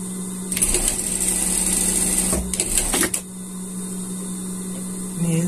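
A sewing machine stitches the legs of unicorn pajamas, running in a steady whir for a few seconds over a constant low hum before stopping.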